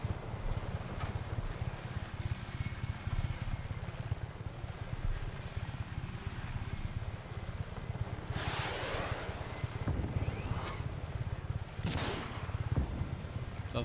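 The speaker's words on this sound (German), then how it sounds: "Er lässt sich ein bisschen schwer fliegen, so angeschlagen, der Heli." A damaged helicopter flies in the action game Just Cause 3, its engine and rotor droning as a steady low rumble, with a few brief rushing bursts near the end.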